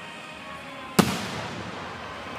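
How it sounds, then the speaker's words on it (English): A single firework bursts at a distance during an Independence Day display at a sports park, one sharp boom followed by a fading rumble over quiet background. "I wonder if they look down and see the fireworks."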